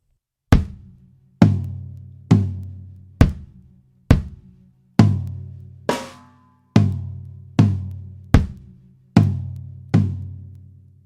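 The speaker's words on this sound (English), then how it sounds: "Again, kick on the bass drum, right, left on the floor tom." Acoustic drum kit played slowly: a regular series of about eleven separate strokes mixing bass drum kicks with floor tom and snare hits, each ringing briefly and decaying, close and clear with no talk.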